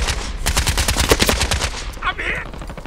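Rapid automatic gunfire fills a shooter video game match, a dense burst of quick repeated shots for about two seconds, loud and close, followed by a brief softer sound.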